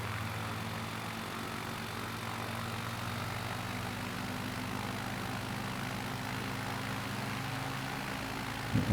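A bush plane's propeller engine in Microsoft Flight Simulator 2020 drones steadily and loudly, a constant close hum with no voices over it.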